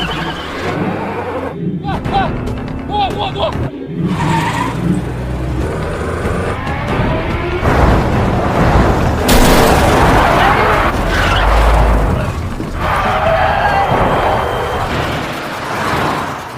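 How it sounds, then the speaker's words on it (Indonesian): Film car chase in which one car keeps ramming another: dense, loud rumbling crashes and engine roar with booming impacts, layered under a dramatic soundtrack and other movie sound effects. "Dong Chul terus menabrakkan mobilnya pada mobil Kitai."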